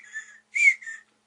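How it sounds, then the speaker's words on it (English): Whistling in a TV show episode: three short clear whistled notes in quick succession, the middle one loudest, heard alone with nothing else around them. "he hears some whistling"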